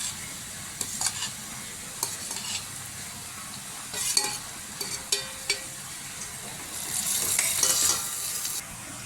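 Cluster beans and potatoes go into simmering gravy, giving a quiet bubbling sizzle with intermittent scraping stirs and clinks of a spoon in the pan, swelling louder toward the end.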